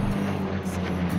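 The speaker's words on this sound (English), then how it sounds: "A vintage single-engine World War II fighter." A vintage single-engine World War II Spitfire fighter plane, in silver finish, flying with a steady, loud engine drone for a brief moment.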